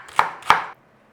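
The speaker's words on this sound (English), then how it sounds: "Dicing. Big, small as you like." Knife dicing carrot on a chopping board, two crisp close chops in quick succession, then quiet, with no talk.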